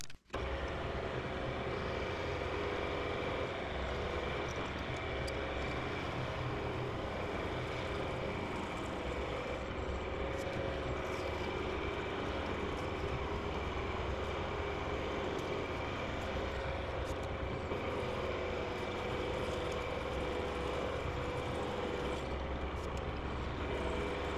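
A metal lathe bores a through hole at low speed in a workpiece clamped from the side in a four-jaw chuck, giving a steady, continuous mechanical drone with faint tonal whine and no pauses.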